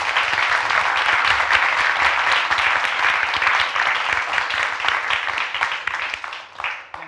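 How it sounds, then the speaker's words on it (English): An audience applauds panelists at the close of a London Data Week event, producing a full, dense burst of clapping that holds steady and then thins into scattered claps near the end. "let's give our panelists a big round of applause"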